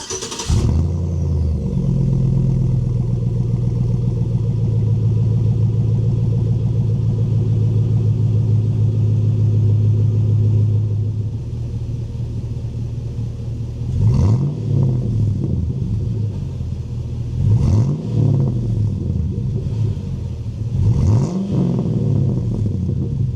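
A truck fitted with a Flowmaster FX exhaust starts up and settles into a loud, deep rumbling idle, then takes several sharp revs near the end, each climbing and falling back.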